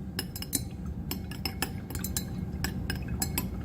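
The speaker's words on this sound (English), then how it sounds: "Toss this into the solution, and then just give it a good stir" A utensil stirs a solution in a glass beaker, making quick, irregular clinks and taps against the glass that ring out close and clear over a faint hiss.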